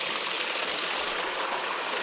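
Water flows in a steady, dense rush with a constant hiss and no pauses, fairly loud and close, with no voices.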